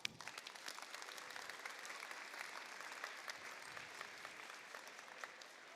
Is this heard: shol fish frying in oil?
no